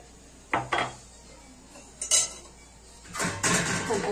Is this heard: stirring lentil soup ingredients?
yes